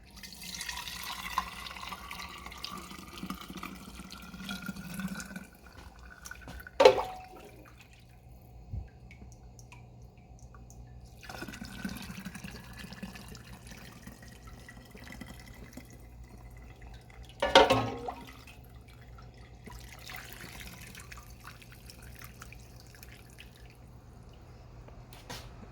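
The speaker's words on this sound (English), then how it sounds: "I just scoop in and pour it into the strainer" Homemade chicken broth trickles and drips steadily through a fine mesh strainer, with two sharper splashes as more broth is poured in from a large handled measuring cup; quiet, close and without speech.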